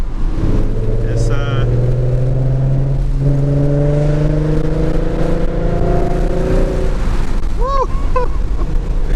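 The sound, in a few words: V6 Ford Mustang engine revving while accelerating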